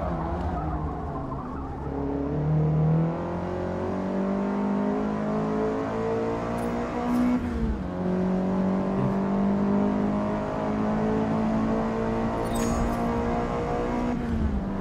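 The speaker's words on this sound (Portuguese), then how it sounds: "Vou estourar o motor do carro" A race car in Forza Motorsport revs hard and loud, the engine pitch climbing and dropping through gear changes with brief tire squeals, close and continuous with no talk.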